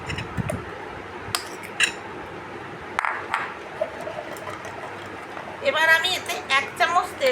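Spice paste being spooned into a green coconut and mixed for dab chicken: sporadic clinks and scrapes of a utensil against the shell and bowl, with voices talking toward the end.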